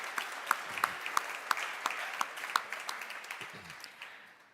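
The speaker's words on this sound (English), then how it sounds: "let's have one more round of applause" An audience claps at the Start Up Energy Transition (SET) Award Ceremony 2022. The applause is scattered and steady, with crisp individual claps that fade slightly toward the end, and no voices are heard.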